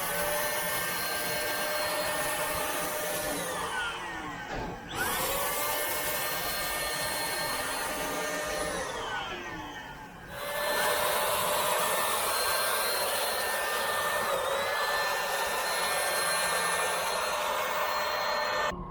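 A spray gun applies Thermal-XR Restore coating to a coil in a steady, loud, continuous hiss, briefly interrupted twice as the trigger is released, close up with no talking.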